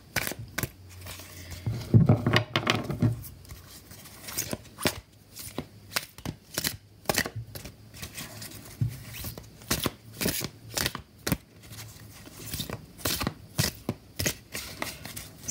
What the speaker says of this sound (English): So we're just going to give the cards a big shuffle.